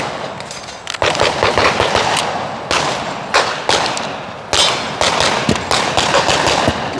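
Loud, close gunfire at a shooting range during a movement and transition drill: a string of sharp shots in quick bursts, separated by brief pauses.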